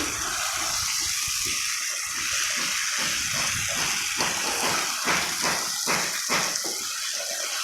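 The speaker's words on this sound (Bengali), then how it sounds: "বৃষ্টি পড়ছে হালকা হালকা" Continuous broadband patter of light rain falling, steady and fairly close, with irregular splashy bursts; no voices.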